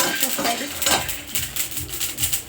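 Tempering spices, mustard seeds among them, sizzling in a pan while sago upma is made, with a crackling sizzle mixed with close scraping and clinks of a spoon against the pan.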